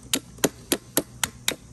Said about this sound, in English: Just take a hammer,